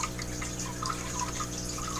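Water running and trickling steadily from an old aquarium filter as it drains, a continuous near wash of liquid over a low hum, with no talk.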